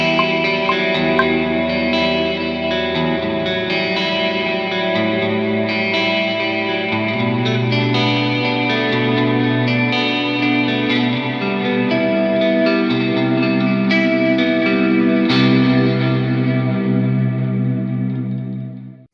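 Electric guitar played through effects, a sustained distorted riff with echo and chorus shimmer and a wobbly tremolo-bar pitch bend, loud and alone for about twenty seconds before fading out.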